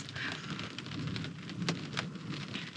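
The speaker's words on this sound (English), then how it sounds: "The thunderstorm has passed, buddy. It's still out there lingering, but it's moving on." A lingering thunderstorm in the Black Hills drums steady rain on and around a camper, a continuous dense patter with a few sharper drops, heard from inside at moderate loudness.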